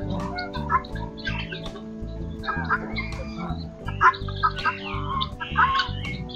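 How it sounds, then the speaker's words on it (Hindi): Female turkeys on a farm alongside other fowl give repeated clucking and gobbling calls, close and fairly loud, layered over a steady background of other birds with no talk. "ये टर्की की फीमेलें हैं हमारे पास।"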